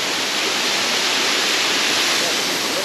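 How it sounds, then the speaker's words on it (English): Waterfall at the Ma'in hot springs in Jordan, a loud, steady, close rush of falling water with a broad hissing roar and no breaks. "under the waterfall here, I'm now walking under the waterfall."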